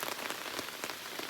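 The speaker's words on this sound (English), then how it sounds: "the rain is coming down pretty good now" Steady, close rain pelts a lake's surface at a Temagami canoe campsite, a dense continuous hiss with scattered heavier drops throughout.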